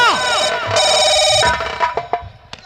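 A telephone bell rings loudly in a tense indoor scene, its bright repeated trill filling the first second and a half before fading out under shouting, scuffling and other sound-effect hits.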